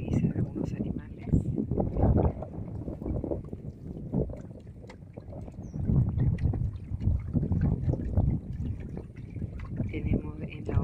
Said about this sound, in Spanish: Hay un viento intermitente continuo.